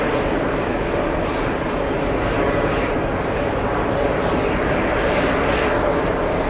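A JetBlue Airbus A320 airliner departs JFK airport, its engines producing a loud, steady broadband roar that stays constant across the whole stretch without talk over it.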